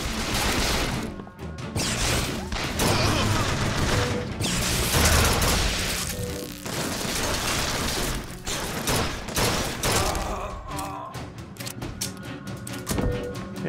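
Gunfire and clashing combat noise from the video game Bioshock Infinite, a dense, loud, continuous barrage of shots and impacts with only brief dips, no clear talk over it.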